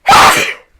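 A single close, loud, sharp sneeze bursts out and fades within a second.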